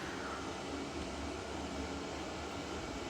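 A bathroom extractor fan runs with a steady, even, faint broadband whoosh much like a hairdryer, unchanging throughout with no voices.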